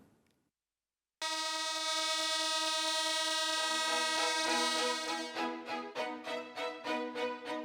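A loud train horn blares steadily with rich harmonic tones in Beed, Maharashtra, then breaks into a series of short rhythmic blasts, close and dominant.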